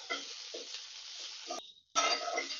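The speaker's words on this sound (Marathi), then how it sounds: "आता हो तेलामध्ये आपण चांगलं फ्राय करून घेऊया, जास्तीत जास्त 5-6 मिनिटं." Broccoli sizzling and being stirred in hot oil in a pan, with a soft, steady frying hiss broken by scraping stirs and a brief pause near the end before the sizzle resumes.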